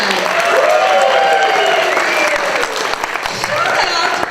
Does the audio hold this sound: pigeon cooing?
no